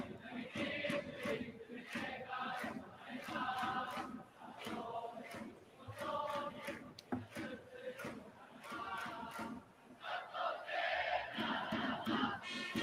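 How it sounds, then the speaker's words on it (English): Baseball fans in a stadium at a Marines versus Fighters game chant batter Narama's cheer song, loud rhythmic crowd bursts rising and falling in repeated phrases, with drums and noise beneath. "I do like the cheer song Narama's got,"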